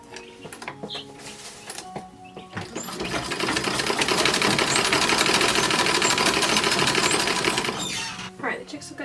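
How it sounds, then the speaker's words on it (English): Sewing machine stitching felt seams on a child's 1910s-1920s style underwear, a rapid whirring clatter that runs for several seconds after a few short starts, with chirping chicks and brief talk around it. "I keep using the sewing machine and it keeps waking them up"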